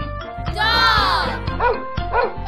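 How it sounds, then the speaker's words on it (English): A dog gives a long whining bark followed by two shorter yips, close and loud. "I'm a dog."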